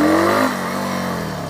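A Nevada 250 motorcycle engine revs loud and close in first gear, the pitch climbing briefly and then settling into a steady drone.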